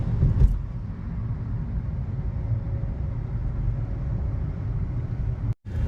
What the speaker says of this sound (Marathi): फुल ट्रॅफिक आहे. अजून आम्ही पोहोचलो नाही.